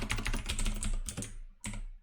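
Quick bursts of keystrokes on a computer keyboard while mapping W, A, S, D movement keys for a 2D game, fairly close and clear, ending with a couple of separate taps after a short pause.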